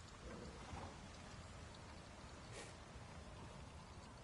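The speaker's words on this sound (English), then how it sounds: "Wind's getting stronger." A rainstorm with gusting wind in the video game Ghost of Tsushima makes a steady, dense roar of heavy rain and wind, with a brief crackle partway through and no talking.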